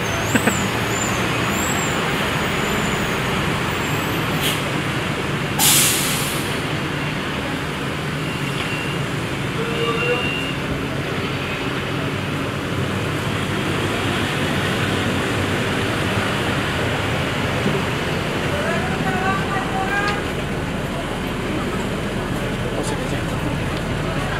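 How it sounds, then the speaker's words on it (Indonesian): A Transjakarta 4K city bus bound for Pulau Gadung idles and moves amid busy roadway traffic, with a loud air-brake hiss partway through and engine drone underneath a steady wash of street noise. "ini dia ya bus yang kita naik, Transjakarta 4K ya, yang ke Pulau Gadung"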